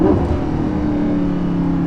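A Lamborghini Gallardo LP550-2, rear-wheel drive, drives at night with a sustained, loud engine drone that holds a steady pitch throughout, heard from inside or close by, without speech.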